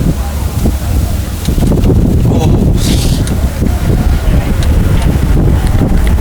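A stiff, steady headwind buffets the microphone during a collegiate men's heavyweight rowing race on open water, a loud continuous rumbling roar that swells after the first second and stays heavy throughout.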